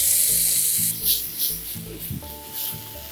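Chunky chopped tomatoes sizzling in a pan over sweated onion, a close, continuous frying hiss with scraping stirs and bursts of crackle.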